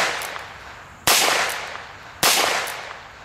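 Two loud, sharp gunshots from a Ruger Single Ten .22LR revolver on a shooting range, about a second apart, each with a short ringing decay.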